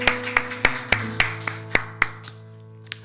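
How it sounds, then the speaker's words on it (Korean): A congregation at a Korean church morning worship service claps in praise, a series of sharp, evenly spaced hand claps that slow and thin out, with a steady low organ or keyboard drone underneath. "하나님께만 감사와 찬양의 박수 드리겠습니다."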